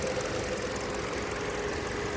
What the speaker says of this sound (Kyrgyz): Мынакей мотор сонун бою иштеп турат.